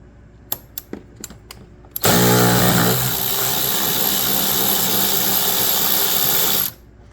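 A power driver unscrews a T30 Torx screw on a BMW E46 cabin filter housing: a few sharp clicks, then a loud, steady motor whir for about five seconds that cuts off abruptly.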